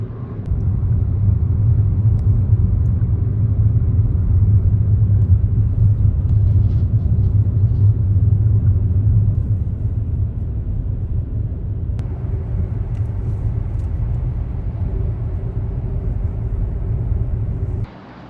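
Steady low rumble of evening city traffic on a road in Medina, heard from inside a moving car, continuous and fairly loud with no talking.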